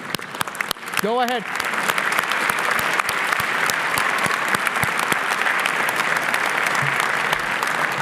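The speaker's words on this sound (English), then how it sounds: "Clapping comes without any charges, free of charges, guys." Applause from a graduation convocation audience in Moose Jaw fills the hall steadily throughout, dense and sustained, with a brief spoken phrase near the start rising above the clapping.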